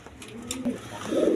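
Pigeons kept for sale coo close by in short, low throaty calls, with a fuller coo swelling at the end of the brief moment.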